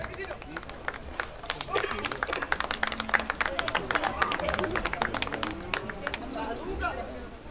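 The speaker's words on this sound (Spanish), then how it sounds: "fuerte aplauso para este hermoso ejemplar" Rodeo crowd at a club arena applauding and cheering in steady, overlapping claps, with babble and chatter mixed throughout, fairly distant and moderately loud.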